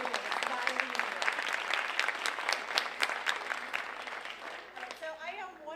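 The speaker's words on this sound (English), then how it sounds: "give yourselves one more time another round of applause for making that decision" Crowd of first-year students at a college convocation applauding for several seconds, a fairly distant, even wash of clapping that fades as a voice begins speaking.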